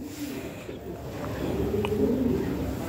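Soft cooing of Lahore pigeons rises over a steady background hum, with a few low murmuring calls and faint chirps.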